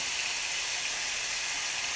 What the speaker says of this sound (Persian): حالا کوفته را به پیاز اضافه کردم و یک جا با پیاز کمی پختش میکنم